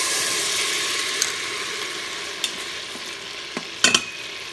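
Butter and a tablespoon of white wine sizzle in an Instant Pot, a steady close hiss of frying punctuated by a few sharp clinks and scrapes of stirring, with no talking.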